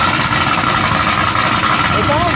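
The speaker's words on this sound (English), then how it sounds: "It sounds like an NA motor. It sounds like a real truck." A boosted SS clone truck idles with a steady, loud, full-bodied engine rumble. A brief faint whistle-like sound rises near the end.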